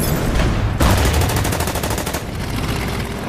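Gunfire in the Order of Battle: Winter War game on the Karelian Isthmus, a loud sustained burst of rapid machine-gun-like shots with a heavier blast near the start, continuous and close, no speech.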